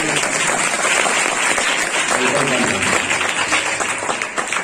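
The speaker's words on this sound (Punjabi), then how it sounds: "ਜੇ ਬਣਦਾ ਤਾਂ ਤਾੜੀ ਮਾਰ ਦੋ" A church congregation at a service in Himachal breaks into sustained applause, dense many-handed clapping that stays loud and steady throughout with a crowd murmur beneath it.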